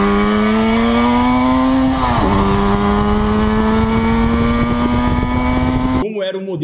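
A Yamaha RD 350 two-stroke motorcycle engine held at high revs, a loud, buzzing, sustained whine that dips briefly, climbs again and then cuts off abruptly near the end.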